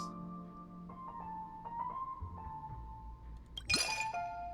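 Wine glass clinks in the Honkai: Star Rail video game while a drink is mixed, a few light glassy taps and rings followed by a louder bright chime near the end, heard alone without talk.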